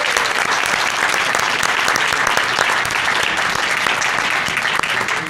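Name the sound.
applause for spelling bee finalist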